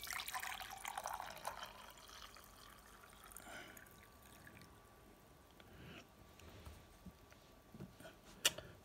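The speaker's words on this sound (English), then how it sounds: "pour the hot water in" Hot water poured into a heat-change mug, a soft continuous liquid pour and trickle, fairly faint and close, fading over several seconds with a small clink near the end.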